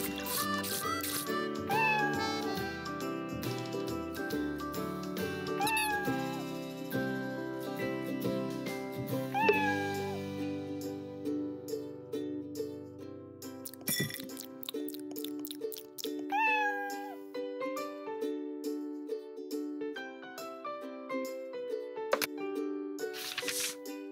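A cartoon cat in the Arthur Animal Home Builder flash game meows several times, short rising cries sounding over cheerful looping background music.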